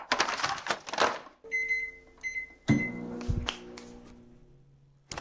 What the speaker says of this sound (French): simplement en le mettant au micro-ondes pendant quelques minutes